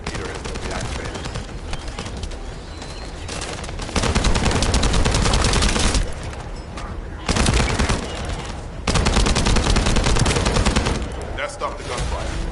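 Bursts of rapid gunfire in the video game The First Descendant, loud sustained volleys alternating with quieter gaps over several seconds.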